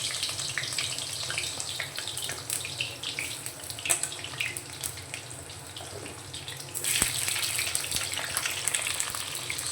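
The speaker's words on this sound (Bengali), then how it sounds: "কেটে রাখা পটলগুলো আমি দিয়ে দিচ্ছি।" Pieces of pointed gourd fry in hot mustard oil, giving a loud, continuous sizzle with scattered crackles that surges louder toward the end.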